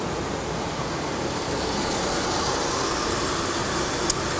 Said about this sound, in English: and of course turn on the bandsaw